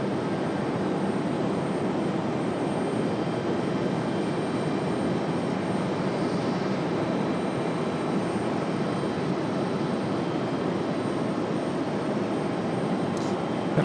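A FedEx jet departs Raleigh-Durham International in the evening, a steady, moderately loud engine rumble that holds evenly throughout from a distance.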